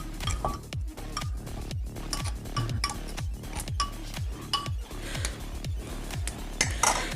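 Spiced chicken is mixed in a traditional clay pot, producing a steady run of close clinks, knocks and scrapes from the spoon against the pot at a brisk, uneven rhythm.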